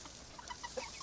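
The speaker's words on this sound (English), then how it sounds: "So here are the chicks." Young chicks in a chicken coop, several faint, short peeps and clucks scattered over a second against a quiet background; no talking.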